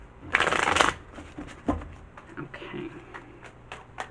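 A quick, crisp riffle of tarot cards being shuffled close by, followed by lighter scattered card handling and taps.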